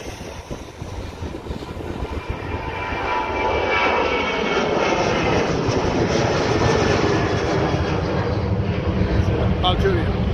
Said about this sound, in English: Boeing 737, that's Air Algérie. That is, rotate.